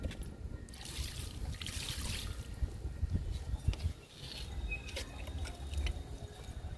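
Liquid fertilizer poured onto a flowering garden plant in summer, a soft, steady trickle and splash that runs for several seconds, close and fairly quiet, with no one speaking.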